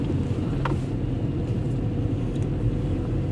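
A car pulling along in first gear gives a steady low engine rumble throughout, with no talk over it.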